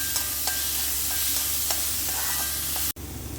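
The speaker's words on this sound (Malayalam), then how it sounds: "ഇത് നന്നായി ഒന്ന് വഴറ്റിയെടുക്കാം." Sliced onions sauté in hot oil and are stirred in a pan, a steady loud sizzle with light, regular scrapes and taps of the spoon, ending in a short, abrupt break.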